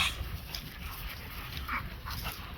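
A dog whimpers and yips softly, close by, in a brief breathy burst with no talking.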